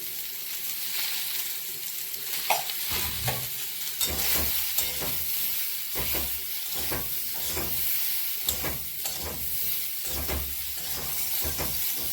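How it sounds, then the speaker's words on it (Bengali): Garlic fries in hot oil, a constant bright hiss and crackle broken by repeated low knocks and scrapes of stirring, close and steady with no talk. "দুটো রসুন ভাজা ভাজা হয়ে এসছে"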